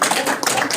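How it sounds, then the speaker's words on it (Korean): A short burst of clapping from a small year-end gathering, quick uneven hand claps close by, lasting under a second. "이제는 박수 한번 주세요."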